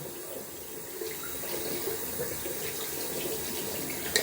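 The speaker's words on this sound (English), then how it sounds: "I'm just rinsing here under lukewarm tap water, making sure I get out every bit of soap" A synthetic-knot Yaqi Moka shaving brush is rinsed under lukewarm running tap water, a soft steady rush of flowing water into a sink with faint splashes, close by and fairly quiet.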